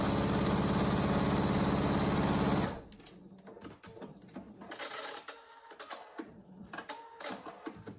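A sewing machine stitches the fabric of a cat carrier cover in one fast, steady whirring run for about two and a half seconds, then stops, leaving quiet handling rustles of cloth.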